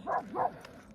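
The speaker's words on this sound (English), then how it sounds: "Look at these dogs." A dog gives two short, close barks in quick succession, the second a little softer, followed by a brief quiet tail.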